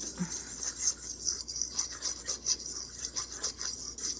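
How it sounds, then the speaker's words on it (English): Dry flour and baking powder stirred in a bowl for mini cheese buns, giving a continuous close scratchy rubbing and rasping with soft rhythmic strokes and no voices. "Give it a good dry stir."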